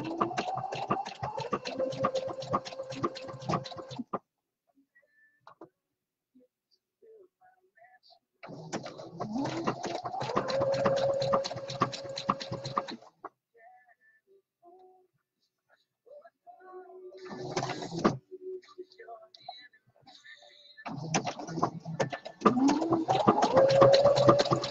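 A sewing machine stitches a jockstrap pouch in several bursts of close, steady whirring and needle ticking, separated by quiet pauses with faint handling sounds.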